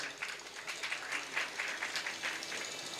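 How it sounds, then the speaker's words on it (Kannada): Audience applause at a live Yakshagana performance during a temple Brahmakalashotsava festival, a steady wash of many hands clapping at moderate distance with no voices over it. "ಚಪ್ಪಾಳೆ."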